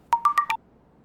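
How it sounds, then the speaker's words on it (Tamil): A mobile phone ringtone plays a quick run of four bright electronic tones, close and clear, then stops into silence. "என் பையன் ஃபோன் பண்றான்."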